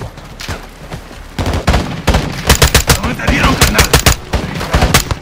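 Gunfire in Call of Duty Modern Warfare II: rapid machine-gun bursts and single shots come in loud, close volleys, building in density, mixed with brief voices shouting in the combat.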